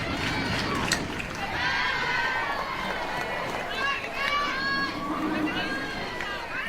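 A sold-out crowd murmurs and cheers at a college softball series finale in Oxford between Tennessee and Ole Miss, steady dense stadium noise with louder swells, under a commentator talking.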